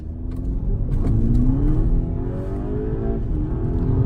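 A VW Golf GTI mk7.5 in sport mode accelerates hard from a standstill to 60, its engine note climbing steadily through the gears with a loud, continuous rising roar and brief dips at the shifts.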